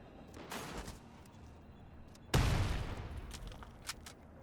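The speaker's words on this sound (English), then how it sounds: "I think just a few more shots, we should get him done." Gunfire in the video game The Division Resurgence, with a burst of shots followed by one louder blast and a decaying rumble, plus a few scattered lighter pops afterward.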